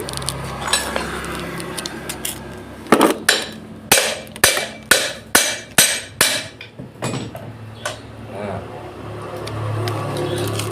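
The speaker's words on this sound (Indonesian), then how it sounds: "ini untuk melepasnya bisa kita ketuk juga ya pakai palu" A hammer taps a gear out of a Vespa gearbox, about eight sharp metallic strikes in a fairly even rhythm near the middle, loud and close, with faint workshop clatter before and after.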